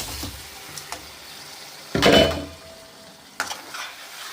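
Fish pieces drop into frying masala in oil, giving a sudden loud sizzle burst midway, framed by a few light utensil clinks and scraping stirs before and after.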